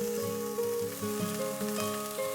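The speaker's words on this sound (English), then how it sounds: "Saute the onions for 3 to 4 minutes" Onions sauté in a pan with coriander seeds, cardamom pods, bay leaves and pink salt for chana masala, giving a steady close sizzle that runs continuously under tonal background music.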